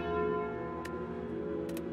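The Calling Bell relic in a video game sounds as a soft, sustained bell chime with ringing overtones, joined by a few faint ticking clicks, quiet and alone.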